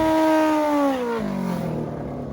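An old school Honda CB drag racing motorcycle engine revving hard, its high whine sliding downward in pitch as the revs drop, then settling into a lower, rougher rumble, loud and close.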